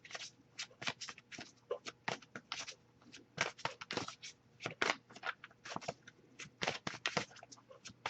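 Tarot cards are shuffled by hand in rapid, irregular bursts of crisp riffling and slapping, close and clear with no talking over them.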